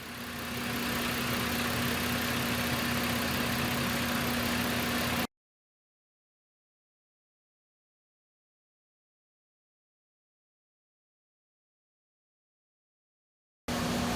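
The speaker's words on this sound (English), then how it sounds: "Got the engine idling." A 2010 Chevy Impala engine with a vacuum leak idles steadily on a rack with a low, constant hum, then the sound cuts out abruptly to silence and briefly returns at the very end.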